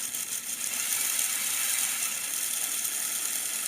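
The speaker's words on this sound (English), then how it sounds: "I've also finally reconnected the medium motor that runs the engine" A Lego Technic medium motor drives a model engine through gears, making a steady close whirring with a fast ratcheting, clicking mechanical rattle that holds at an even level.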